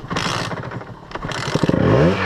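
Yamaha DT50R enduro motorcycle on a muddy trail, its small two-stroke engine revving hard with clattering and scraping, then climbing in pitch as it accelerates near and loud at the end.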